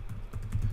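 Soft, rapid clicking of keys on a computer keyboard during a coding session, close and quiet in a short burst with no talking.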